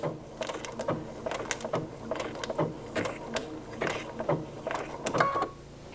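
Sewing machine working a blanket stitch: irregular mechanical clatter and clicking bursts from the needle, with short pauses between runs, close and moderately loud with no speech.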